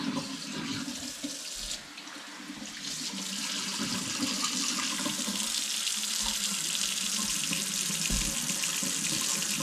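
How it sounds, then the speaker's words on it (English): Kitchen faucet runs a steady stream into a sink with a blocked drain, a continuous close splash and hiss lasting the whole stretch, no talking. "Let's go inside and run the faucet and we'll see what happens."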